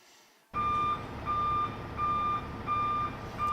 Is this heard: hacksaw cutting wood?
no